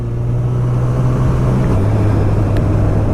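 A 2019 Honda CB1000R Plus motorcycle fitted with a new Termignoni GP2R exhaust idles close by with a steady, deep, moderately loud burble and no pauses or revs.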